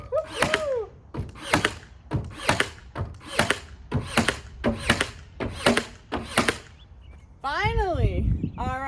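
A Ryobi Airstrike cordless nailer fires again and again in a woodworking shop, with about eight sharp, evenly spaced shots close by. A voice briefly cheers at the end.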